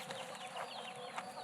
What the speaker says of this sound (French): T'as vu les poules dans l'arbre?